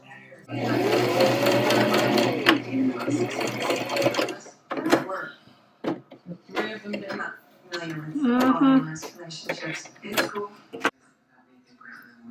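A sewing machine stitches the arm of a dress in a steady, whirring run for about four seconds, then stops. Short stitching bursts follow, mixed with people talking nearby.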